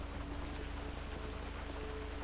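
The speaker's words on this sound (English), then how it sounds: "Oh, dude, I fucking love it when it rains." Steady rain falling in GTA V roleplay, a dense even hiss of drops on surfaces with a faint low rumble beneath, continuous and moderate in level, with no voices.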